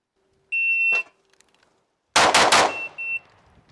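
Tanfoglio Domina Extreme race pistol on a shooting test: a shot timer beep, then a quick burst of loud, closely spaced gunshots in rapid succession, followed by another electronic beep.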